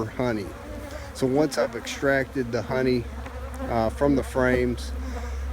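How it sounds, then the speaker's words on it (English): Honeybees buzz steadily around a beekeeper outdoors, a continuous low hum running beneath someone talking throughout. "you can probably hear the noise of the bees buzzing around me right now"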